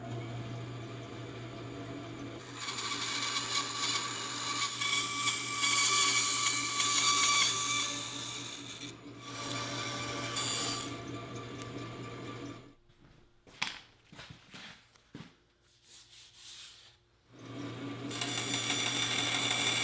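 A loud, whining power tool grinds steadily for several seconds, removing material from the bottom of a zero clearance insert for a Bosch Glide miter saw, briefly stops and restarts in short bursts, then resumes its continuous hum.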